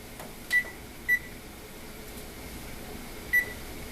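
A kitchen timer being set during boiling-water-bath canning of pear jam gives three short, sharp electronic beeps, two close together and one a couple of seconds later, over a quiet room hum.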